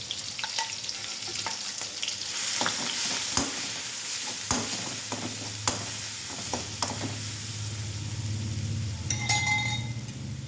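Chili masala sizzles and fries in a pan for biryani while a spoon stirs it, with steady frying hiss and sharp metallic clinks and scrapes at irregular intervals.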